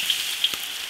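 Minced garlic fries in lard in an iron wok, giving a brief, even sizzling hiss with a couple of tiny pops.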